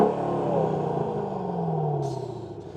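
Mercedes SLK55 AMG V8 engine revving up close, a throaty rise that falls away as the revs drop, with a brief mechanical clatter near the end.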